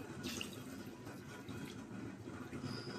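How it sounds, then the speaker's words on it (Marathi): Quiet, continuous splashing of water being poured into a pressure cooker over a container set inside, a soft steady trickle with faint clinks, no voices. "कुकरमध्ये डबा ठेवते, त्यावर पाणी घालते."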